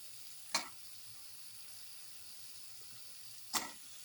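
Paneer pieces dropped into a hot pan give two brief, sharp sizzling bursts about three seconds apart over a faint steady hiss, with no talking.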